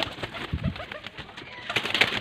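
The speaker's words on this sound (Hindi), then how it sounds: "सात कबूतर आपको शो करवाते जाएंगे," Pigeons are released close by, with soft fluttering wingbeats and light flapping bursts over a rustling outdoor background, without speech.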